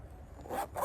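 A zipper on a leather nativity case is pulled in one quick, close rasping stroke, soft and brief.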